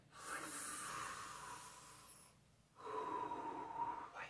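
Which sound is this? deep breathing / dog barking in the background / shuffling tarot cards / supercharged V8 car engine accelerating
deep breathing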